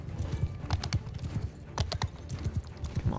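Horse archers and cavalry thunder along in a medieval battle video game, hooves beating in a rapid, uneven clip-clop of many galloping horses, close and busy with no speech.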